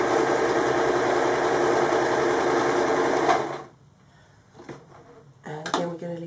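A sewing machine stitches fabric for an origami candle mat, running in one steady, loud, continuous burst for about three seconds before stopping, after which a person talks quietly.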